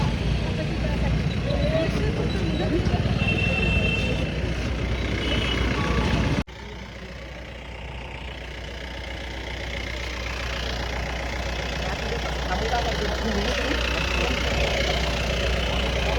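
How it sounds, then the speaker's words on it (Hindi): Vehicle engine noise at the Lakadganj pigeon market in Nagpur, a steady mid-pitched rumble under loud crowd chatter, dropping abruptly to a quieter drone partway through while voices continue. "तो गाड़ी का बहुत ज़्यादा शोर है।"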